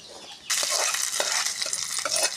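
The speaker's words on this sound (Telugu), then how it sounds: "తాలింపులు వేస్తున్నానండి. కరివేపాకు వేసాను. మిర్చి 2 కాయలు" Curry leaves and green chillies dropped into hot oil for tempering, an abrupt burst of close, crackling sizzle with sharp pops and spatters continuing for about two seconds.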